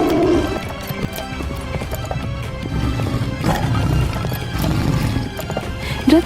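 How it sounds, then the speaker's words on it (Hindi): Horses gallop in a steady rush of hoofbeats as they drag a royal chariot in a frightened bolt after a lion's roar, with a whinny and neighs rising loud and close over the clatter. "घोड़े रथ को लेकर अंधाधुंध भागने लगे।"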